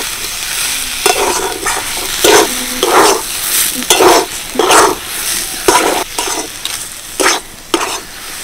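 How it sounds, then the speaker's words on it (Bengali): Cauliflower chop filling is stirred in a pan until dry, with repeated rhythmic scraping strokes of a spoon over a steady sizzle, close and clear, and no talk. "আরও কিছুক্ষণ নাড়াচাড়া করার পর কিন্তু বেশ শুকনো শুকনো হয়ে গেছে।"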